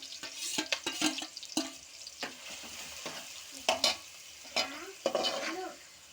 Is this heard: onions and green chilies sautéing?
yes